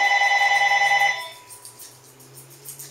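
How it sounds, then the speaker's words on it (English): A phone rings with an electronic warbling tone for about a second, then cuts off, leaving quiet background hum. "And there goes my phone."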